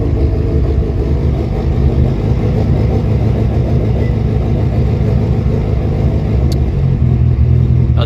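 Mitsubishi Evolution X open-class rally car with a working anti-lag system, its engine running loud and steady throughout with a rough low rumble and slight revving near the end.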